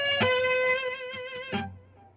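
An electric guitar plays a short pentatonic lick that does not resolve to the root E: a bright sustained note, a few quick picked notes, then a final attack that quickly fades out alone.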